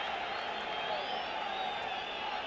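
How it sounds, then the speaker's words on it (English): A stadium crowd at a Concacaf Nations League football match between Bonaire and El Salvador applauds a corner kick, with a steady, dense roar of clapping and cheering sustained throughout. "And the crowd appreciate a corner"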